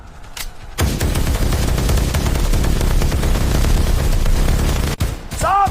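Sustained, loud gunfire from a film shootout between Chambal bandits and police in a village, dense overlapping shots and blasts after a brief quiet opening, with a short break near the end.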